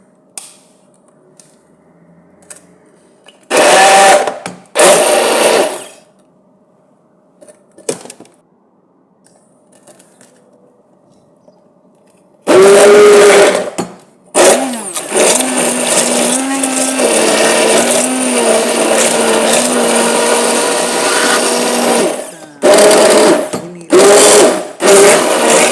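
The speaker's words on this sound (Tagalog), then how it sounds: "Halo-halo na using the hand mixer." A hand mixer whirs through a chicken tocino ball mixture in loud motor bursts, first short and stop-start, then a long sustained run with a steady hum, ending in a few more brief pulses.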